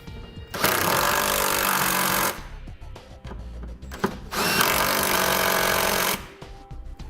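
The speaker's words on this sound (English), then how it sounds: "Now for these 10mm bolts, to tighten them up, we're going to be using a 17mm socket." Power tool driving 10mm trailer hitch bolts with a 17mm socket during a Curt receiver install on a 2016 Toyota Camry, with two long, loud, steady whirring bursts separated by a short pause, close up and without talk.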